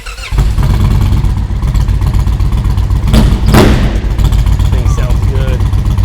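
Custom Indian Chieftain PowerPlus motorcycle engine idling with a deep, throaty rumble, then two sharp revs blipping up close and loud, while people talk nearby.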